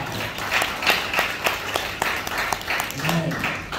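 Applause from a church congregation during a sermon, a crowd's scattered claps rising and falling over several seconds, with voices mixed in throughout.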